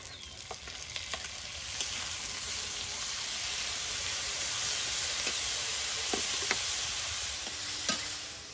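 Garlic, grated ginger and grated onion fry in a pan for a prawn malai curry, a continuous close sizzle with occasional stirring scrapes and sharp crackles, no talking.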